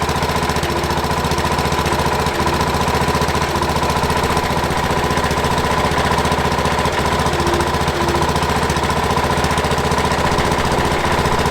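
Case 644 wheel loader engine running steadily in reverse, a loud continuous diesel drone with a rough mechanical knock, unbroken for the whole stretch with no voices.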